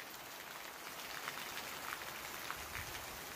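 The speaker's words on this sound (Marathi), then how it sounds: "किती मस्त पाऊस पडून राहिला." Heavy rain pours steadily in a village during a cloudburst-like downpour, a dense continuous hiss of drops on surfaces with faint scattered splashes, no voices.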